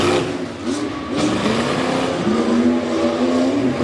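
Tough truck racing at a dirt track, with a truck suffering drivetrain trouble; a loud continuous engine roar rises and revs, with brief squealing accents.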